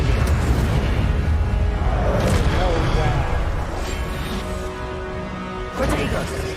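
Incendio fire spell cast in Hogwarts Legacy, a dense roaring, crackling burst of flame sustained for several seconds, with a fresh flare near the end and a voice speaking over it.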